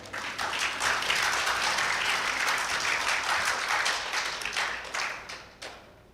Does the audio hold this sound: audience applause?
yes